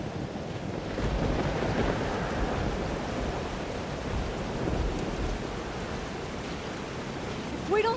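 Thunderstorm from the Life Is Strange: Double Exposure video game: dense, loud rain roars continuously with deep rumbling thunder swelling beneath it, steady and close throughout.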